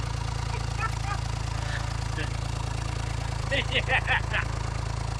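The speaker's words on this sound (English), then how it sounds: "We got an idle down. Idling." An old abandoned tractor engine idling steadily, a loud, even low-pitched chugging drone throughout, with people talking over it near the end.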